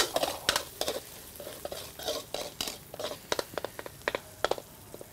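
A utensil stirs and scrapes minced meat frying in a pan for Vietnamese grilled pork, with repeated sharp clinks against the pan over a low sizzle, close and moderately loud.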